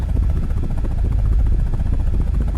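An attack helicopter flying in a video game gives a loud, continuous rotor drone with a fast, even chopping pulse that stays steady and close the whole time.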